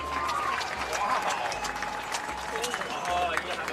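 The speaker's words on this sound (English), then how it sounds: "Let's have a round of applause for Jolene Beach." At a high school football game, the stadium crowd gives moderate applause mixed with general crowd noise, with an announcer's voice carrying over the top throughout.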